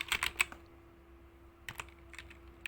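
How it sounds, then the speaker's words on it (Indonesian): Short bursts of typing on a computer keyboard while entering data, a quick cluster of sharp key clicks, a pause, then a few more taps over a faint steady hum. "ketik data barang"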